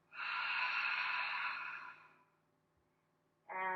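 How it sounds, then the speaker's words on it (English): A long, breathy exhale during a yoga session, steady and close for about two seconds before trailing off into quiet, then a fresh breath begins right at the end. "And exhale."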